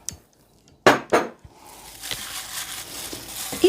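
Two sharp clinks of a utensil against a baking dish, followed by softer scraping and stirring of capelin fish with olive oil in a quiet room.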